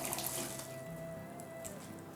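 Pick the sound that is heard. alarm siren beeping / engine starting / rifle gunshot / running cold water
running cold water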